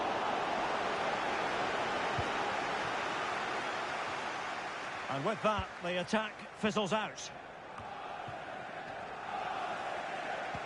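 A stadium crowd in a football video game roars as a steady wash of noise, with someone commentator speaking over it partway through before the crowd swells slightly again.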